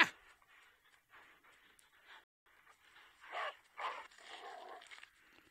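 Companion dog in the zombie video game Into the Dead, heard panting and whimpering in soft bursts over faint game ambience, growing louder toward the end with a few brief yips.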